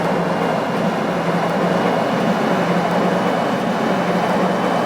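A metro train in the video game Metro Simulator 4, a 5700 series car, gives a continuous rumbling rail roar at moderate volume, steady and unbroken, with no voices.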